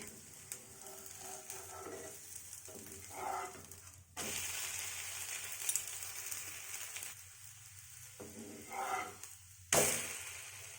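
Milk butter gola ruti frying in a pan after being flipped, a steady low sizzle with occasional soft scrapes and clinks of a utensil, fairly quiet and close.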